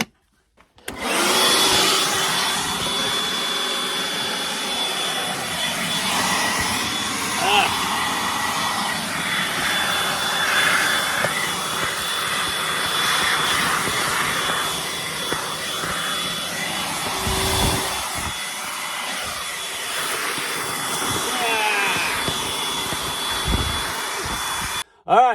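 A gold prospecting suction machine vacuums sediment from beneath a desert waterfall, a loud continuous roaring whine held close for the full stretch, with gurgling surges of slurried material along the way.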